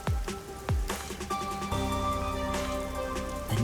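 Steady rain falls over a neon-lit city district at night in a video game, a dense continuous patter with a few sharper drops near the start, alongside tonal ambient music.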